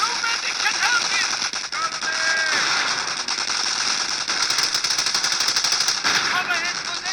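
Sustained machine-gun and rifle fire in the World War II strategy game Company of Heroes, German Wehrmacht forces fighting in Lyon, dense rapid bursts throughout with shouted voices mixed in.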